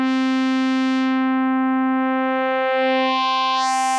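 A basic sine synth voice on the Neutron Sound Dust of Time module holds one steady, pure electronic tone for about four seconds, its brightness gently sweeping, alone and clean.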